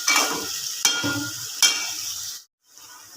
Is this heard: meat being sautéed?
yes